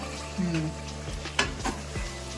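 Round eggplant pieces, about 300 grams, tipped into a hot frying pan and stirred, with a near, steady sizzle and a few scraping strokes of a utensil against the pan.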